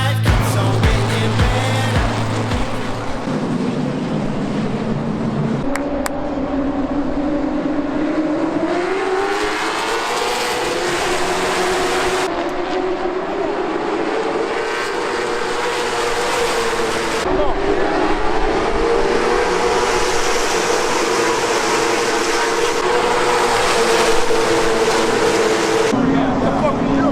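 Race cars running a heat race at Martinsville, a continuous loud roar of engines rising and falling in pitch as the cars pass and accelerate, with a voice speaking over it.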